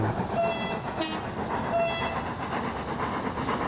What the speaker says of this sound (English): I'm not sure why this egg train has a two-tone horn.